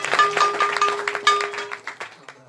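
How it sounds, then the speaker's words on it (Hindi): Applause breaks out at a devotional kirtan and Hari katha gathering held for a deity's birth anniversary, a burst of loud, uneven clapping from a small crowd that thins out over a couple of seconds. "अब इनके लिए जोरदार ताली बजाओ"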